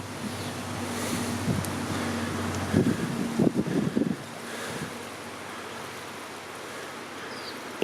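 Wind rushes through an outdoor garden on a hot, dry day, a steady broad roar buffeting the microphone, with a burst of rustling and thumps midway before the gusts settle.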